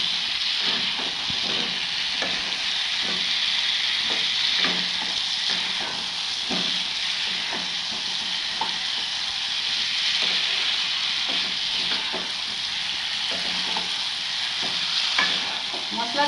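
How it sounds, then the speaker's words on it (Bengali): Potatoes being stirred into spice paste and fried in oil for a vegetarian aloo dum, with a continuous sizzle and hiss broken by repeated scraping strokes of a spoon against the pan. "এবার আমরা এতে আলুগুলো দিয়ে দেবো। আলুগুলো দিয়ে আমরা ভালো করে নেড়ে চেড়ে দেবো।"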